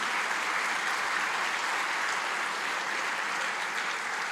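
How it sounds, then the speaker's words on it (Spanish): A church congregation claps steadily and evenly throughout, a dense, moderately loud applause filling the room with no voices over it. "Dele un aplauso a nuestro Rey."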